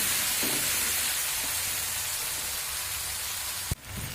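Spice masala with tomato sauce sautés in hot oil for a vegetarian banana-flower and potato chop filling, a steady close sizzle throughout. A single sharp knock of a utensil sounds near the end.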